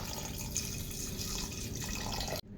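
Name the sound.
water being poured into beef for curry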